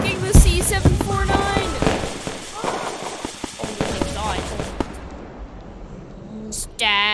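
Stacked C749 consumer fireworks going off in a rapid burst of sharp cracks and pops, loud and close, followed by fizzing and a final whistling rise, with excited voices talking over the blasts.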